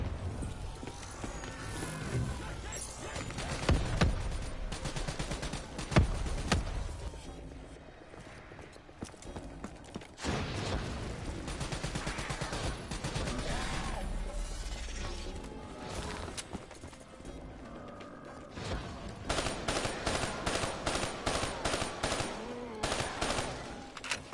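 Rapid gunfire from a weapon in Call of Duty Black Ops 3, with bursts of mechanical clatter and repeated shots that grow into a steady rhythmic string near the end, set over a busy game soundtrack.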